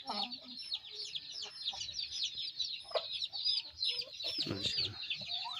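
An Aseel Amrohi hen, an Amroha chicken breed, clucks in low close bursts, while higher chirping and rustling from other birds fills the background.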